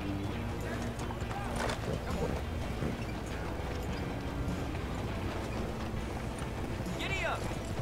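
Norfolk Roadster horse in Red Dead Online, hooves clip-clopping steadily under continuous game ambience and background noise, with a brief whinny-like sound near the end.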